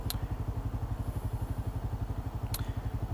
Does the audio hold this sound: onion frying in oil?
no